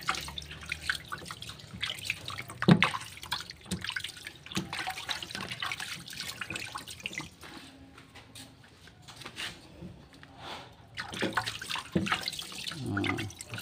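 Water splashes and trickles steadily up close as tegu lizards are watered, with drips and gentle pouring throughout, rising again toward the end.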